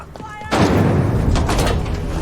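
Gunfire in the video game The Outer Worlds: a loud, dense burst of shooting and impacts kicks in after a brief quieter moment and sustains throughout, with voices shouting over it.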